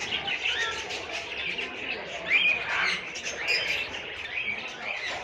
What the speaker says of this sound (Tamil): கீழேயும் பேர்ட்ஸ் நிறையா இருக்குது.